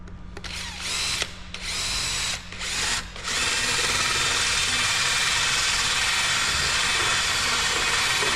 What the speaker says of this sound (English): So let's drill a couple more washers real quick here.